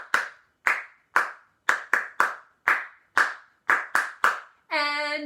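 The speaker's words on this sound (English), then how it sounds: "no letters, just hand clapping" Sharp single hand claps keep time along with the children's song Bingo at a family storytime, about eleven close, crisp claps in a steady rhythm, followed by a brief voice.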